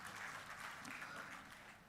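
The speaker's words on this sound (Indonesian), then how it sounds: "Tepuk tangan untuk acara ini." Applause from guests at a groundbreaking ceremony for the Jagat Kerti toll road in Bali, a steady wash of clapping lasting a couple of seconds and easing off slightly at the end.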